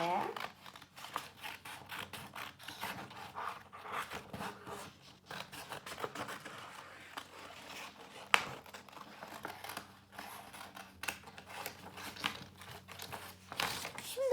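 Scissors cut around a paper hand template in a series of quiet snips and crinkling rustles of paper, close by and faint, with a voice talking intermittently.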